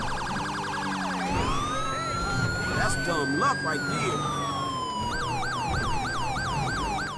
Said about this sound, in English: With the modern siren pack, we get modern, real-world siren tones